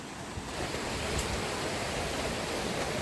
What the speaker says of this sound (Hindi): खेत वाला पानी यहाँ से नीचे बहता है, यही वाला नीचे जाके वाटरफॉल बनाया लगता है